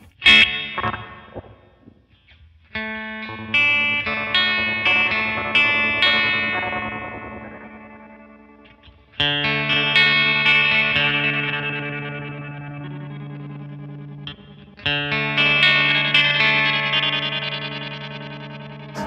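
Electric guitar played through a Flamma FS03 delay pedal, with repeating echoes trailing each strummed and picked phrase; three loud passages of sustained chords and arpeggios separated by brief pauses, no talking.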